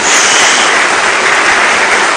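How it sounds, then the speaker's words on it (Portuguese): A church congregation applauding Jesus during a worship service, a loud, dense, continuous roar of many hands clapping at once, unbroken from start to finish. "Dá uma salva de palmas a Jesus"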